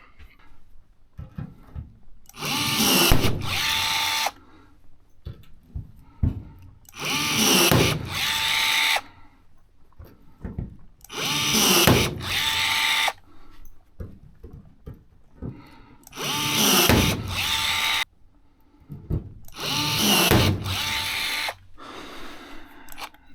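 Rivets are drilled out of airplane wing skin in five separate whining drill bursts of about two seconds each, spaced evenly with quieter handling noises between them.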